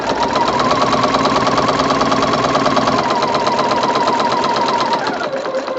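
A sewing machine runs continuously as it stitches around a scrap-fabric French rose, a close, steady rapid mechanical chatter that slows and stops near the end.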